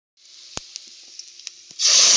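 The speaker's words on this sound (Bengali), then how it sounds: "এগুলো ভাজা হয়ে গেলে এর মধ্যে কুচনো করে পেঁয়াজ দিয়ে ভেজে নিল" Chopped onions tossed into hot oil for a five-lentil mixed dal, a faint hiss with a few soft clicks at first, then a loud steady sizzle bursting up near the end.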